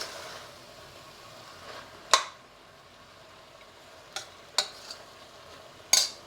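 Fresh curry leaves hit a pan of sizzling mutton curry, giving a few sharp crackling pops and spatters spread over a quiet, low sizzle, with no talking.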